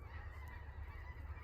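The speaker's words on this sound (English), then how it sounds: "You can hear the geese flying in the distance, eh?" Geese honk faintly in the distance as they fly south over a campsite, a soft repeated chorus of calls above a low steady background hum, with no voices.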